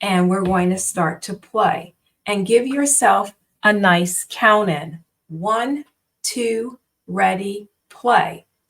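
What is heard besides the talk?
No everyday noises stand out.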